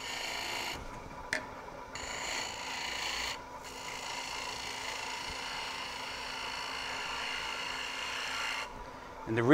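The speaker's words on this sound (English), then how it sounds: "take a freshly sharpened gouge, and I save that just for this final tweaking cut" A freshly sharpened gouge makes a final finishing cut on turned wood at a lathe: a continuous dry scraping rasp with a couple of brief pauses over a faint steady motor hum.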